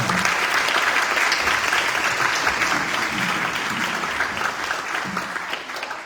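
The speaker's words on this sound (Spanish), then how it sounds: "le damos un caluroso aplauso al profesor Rodrigo Pérez de Arce de su conferencia" Warm audience applause welcomes a professor before an inaugural lecture, steady dense clapping from a seated crowd in a hall that holds evenly throughout and eases slightly at the end.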